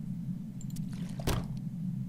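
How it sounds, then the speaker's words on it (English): In the horror video game File, a single wet splash lands over a low, steady hum, brief and fairly close, with a few faint drips and squishes around it. "He just splashes into the bottom of the screen."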